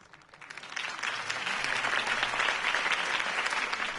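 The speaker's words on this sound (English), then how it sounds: "If only Mr. Wayne, my campaign's largest backer, could have heard that applause" A crowd in the video game Batman: The Telltale Series breaks into applause that swells from a light patter into steady, sustained clapping filling the space.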